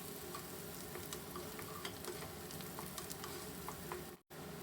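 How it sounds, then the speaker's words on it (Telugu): Onions frying in a pan with oil for hotel-style palak paneer, a steady close crackling sizzle with scattered pops and stirring scrapes, and a brief cut near the end. "బాగా మంచి కలర్ వచ్చే వరకు ఆనియన్స్ ఫ్రై చేసుకుందాము."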